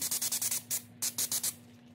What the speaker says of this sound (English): Just gonna spray it off with some brake cleaner.